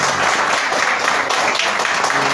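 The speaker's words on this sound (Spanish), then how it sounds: "¿Cuántos pueden darle un fuerte aplauso a su Dios?" A church congregation applauds loudly during a service, with dense, steady clapping filling the full stretch and no pauses.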